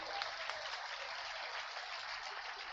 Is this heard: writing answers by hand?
no